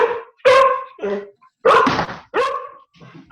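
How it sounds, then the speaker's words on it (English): A dog barks near a home computer during a remote school board meeting, sounding five or six sharp, loud barks and yips in an uneven rhythm with brief silences between them. "I got a dog barking."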